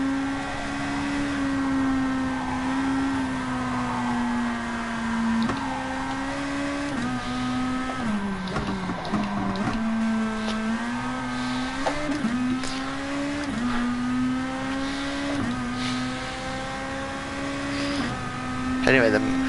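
A Nissan Motul race car engine in a racing game at Fuji International Speedway, droning continuously with pitch rising and dropping through gear changes around a corner, while a person talks over it.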